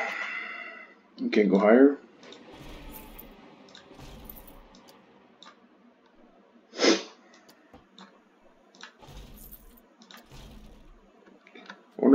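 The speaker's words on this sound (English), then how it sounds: "I gotta sneeze." A single sneeze bursts out sharply near the mic during a casual Planet Coaster gaming session, with sniffs and a few short clicks around it and someone talking before and after.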